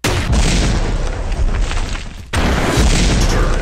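A rocket launcher explosion in the video game Masked Forces: a loud, sustained rumbling boom with a second blast hitting about halfway through, dense and close, with no speech.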